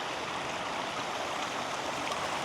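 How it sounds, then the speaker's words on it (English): A stream flows outdoors on a nature walk above two bodies of water, producing a steady, dense broadband rush that stays constant and moderately loud throughout, with no talk. "the water flowing with both of the bodies of water at the bottom down there visible"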